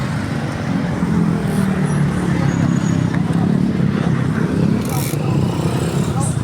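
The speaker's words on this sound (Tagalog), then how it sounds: "Ang traffic na." Road traffic on a busy street during a wait for a jeep. Cars and motorbikes rumble steadily close by, with occasional horn-like tones and voices in the crowd underneath.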